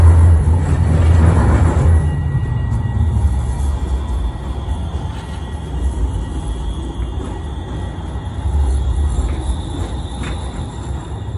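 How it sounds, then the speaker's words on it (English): A tram at Rotterdam Central Station, a steady low rumble of rail traffic and engine hum with ambient station noise, louder at the start and swelling again near the end. "This is the tram."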